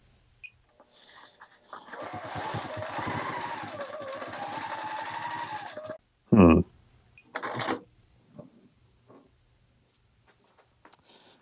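A Sure Stitch Elite sewing machine, fitted with a new needle, runs for about four seconds with a rapid mechanical whirring rattle, followed by a few short clunks and quiet bumps.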